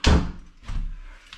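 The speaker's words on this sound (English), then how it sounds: "Close the door." A bedroom door swings shut with a firm thud, followed by a softer rattle as it settles against the frame, close by and with no one speaking.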